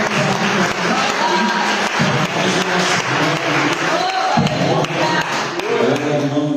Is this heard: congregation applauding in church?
yes